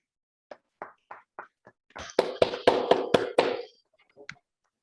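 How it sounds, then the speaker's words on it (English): Scattered claps from an online audience at a gravitational-wave physics talk, a few isolated slaps at first, then a denser burst of several overlapping claps over unmuted microphones before it fades to a couple of last taps. "I invite the audience to open their mic and clap for the record"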